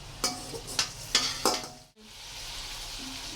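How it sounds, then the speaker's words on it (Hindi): Tomatoes with a spoonful of garlic-ginger paste fry in a pan, a close sizzle broken by several sharp stirring scrapes before the hiss settles into a steady, quieter crackle. "अब इसकी हम अच्छी तरह इसको भून लेंगे टमाटरों को, ताकि जो टमाटर है वो नरम हो जाएं"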